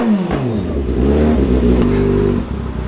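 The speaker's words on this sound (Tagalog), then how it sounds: "Painit lang tayo ng ating motor." A motorcycle engine warms up close by, a steady throaty idle that swells into a sustained rev and then drops back near the end.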